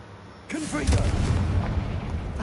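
A Confringo blasting spell goes off in a video game: a sudden, loud booming burst that rolls into a sustained, rumbling roar lasting a couple of seconds.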